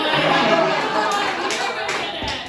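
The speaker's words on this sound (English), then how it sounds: "the clapping for the white man" Applause from a crowd fills the space, steady and fairly loud, with chatter mixed in, tapering slightly toward the end.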